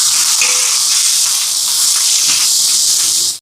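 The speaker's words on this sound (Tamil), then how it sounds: "இதோட வெங்காயம் சேர்ப்போம் இதுலேயே தாளிச்சிட்டு" Onions sizzle steadily as they are tempered in a large pot of food for a hundred people, a loud, continuous bright hiss close to the mic with no talk.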